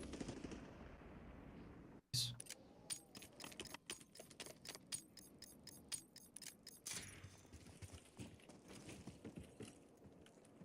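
Gunfire in a multiplayer shooter game, a rapid run of sharp, clicky bursts and single shots after a brief pause, fairly close and moderately loud, then scattered further shots.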